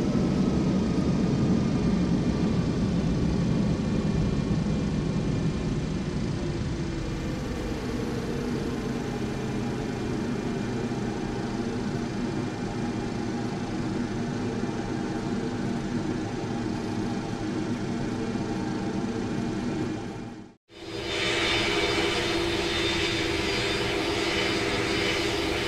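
Airbus A319 engines in Flight Simulator X throttle back, the loud steady jet roar easing down to a lower sustained hum, then cutting off briefly before resuming with a brighter tone.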